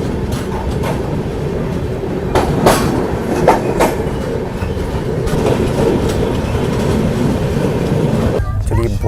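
The Jharkhand Swarna Jayanti Express runs along the railway line, heard from inside as a loud continuous rumble with rhythmic clickety-clack of wheels over rail joints, a few sharp knocks, and a sudden shift in tone near the end.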